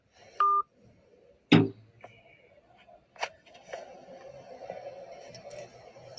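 Telephone keypad tones sound at the start: a short steady beep, a sharp click-like hit, then quieter tonal blips over a low hum and faint background noise.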